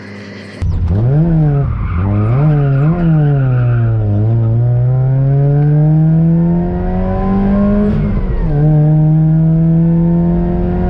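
A supercharged Mazda Miata engine revs loudly and close, pitch climbing and falling through several quick blips, then holding a steady high idle-like drone with a brief dip before settling again; no voices.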